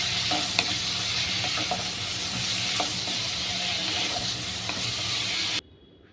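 Thinly sliced onion and tomato frying in a pan for a spinach dish: a close, steady sizzle with occasional stirring clicks that stops abruptly near the end, with no voices.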